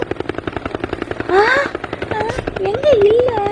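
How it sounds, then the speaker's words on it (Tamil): Helicopter rotor chopping in a steady rapid rhythm throughout, loud and close, with a voice and other speech over it. "ஹெலிகாப்டர்."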